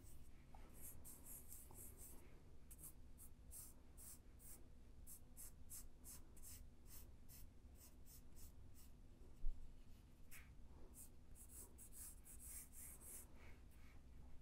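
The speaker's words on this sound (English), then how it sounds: "So I'm just going to draw a quick little sports coupe." Pencil or pen sketching a quick sports coupe on paper, with steady scratchy strokes and short repeated scribbles, close and fairly quiet, no talking.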